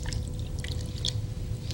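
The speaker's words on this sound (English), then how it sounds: "take our marinade, pour our marinade over top of them" Marinade with ginger is poured over hens in a kitchen, a soft wet splashing and dripping that runs steadily and close, with no voices.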